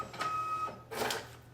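A sticker printer warming up on its first run and printing an oil change sticker, with a thin steady whine followed by a short burst of whirring feed noise, heard close with no talking.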